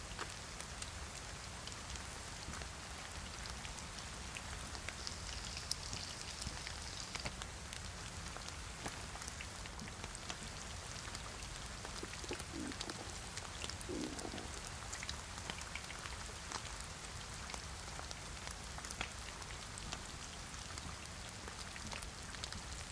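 Steady rain falls in DayZ on the Chernarus map, a constant, fairly faint hiss of drops on the ground and surfaces that continues unbroken throughout.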